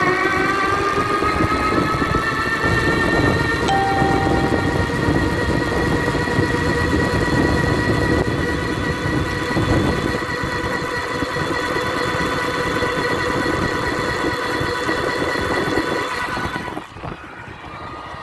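Homemade electric bike accelerating at full throttle, a loud continuous motor whine with rising tonal harmonics and rumbling road noise, steady for most of the time before dropping off near the end.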